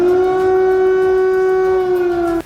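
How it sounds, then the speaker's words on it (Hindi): An air raid warning siren in Kyiv holds a steady, loud tonal wail for over two seconds before cutting off sharply, with no voices. "कीव में लगातार खतरे के सायरन बजने शुरू"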